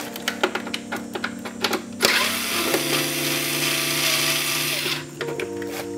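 A power tool runs in a steady continuous whir while loosening the airbox connection on a BMW N54 engine, after a run of short clicks and taps, then stops with more light clicks at the end; no talking.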